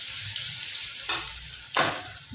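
Egg-dipped bread fries in oil with a steady close sizzle. Two louder bursts of spitting hiss come as pieces are moved or turned.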